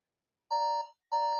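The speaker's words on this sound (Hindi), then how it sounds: "टाइमर 10 सेकंड है भाई आपके पास" Quiz countdown timer alarm in a KBC-style Haryana GK quiz rings out in two loud electronic bursts, each about a third of a second long, with a short gap between them and no voices.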